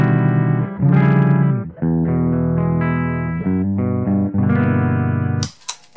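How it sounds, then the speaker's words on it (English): An electric guitar plays a dry, unprocessed line through an Electro-Harmonix Micro POG pedal, with sustained notes and chords that shift every second or so at a steady, fairly loud level, ending in a brief noisy scrape. "Here we have the dry sound from the POG"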